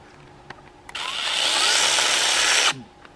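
A small battery-powered junk chainsaw bites into wood in one close, steady burst of high buzzing cutting noise lasting nearly two seconds, then stops abruptly, leaving near-silence around it.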